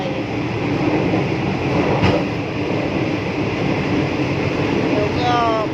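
Passenger train rolling along the rails, a steady loud rumble and rattle of the carriage throughout, heard from inside with a faint squeal near the end.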